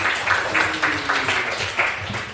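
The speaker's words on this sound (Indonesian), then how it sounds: "tepuk tangan dulu untuk kawan kita Pauzi." Classroom applause from students for a classmate, a steady rapid patter of many hands clapping together at moderate loudness, sustained without pause.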